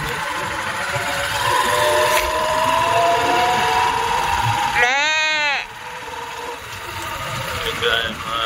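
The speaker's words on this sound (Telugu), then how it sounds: "ఇక్కడ గొర్రెలు ఉన్నాయి." A single wavering sheep bleat rises midway from a large flock in an open plot beside a road in Ongole, over a steady engine drone and outdoor background noise.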